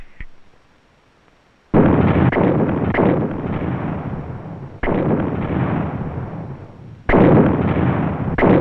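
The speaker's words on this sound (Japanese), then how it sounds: "爆発は10秒後だ。" Three loud anime explosion effects hit one after another, each a sudden booming blast that rumbles on for a couple of seconds and then cuts to the next, after a short quiet opening.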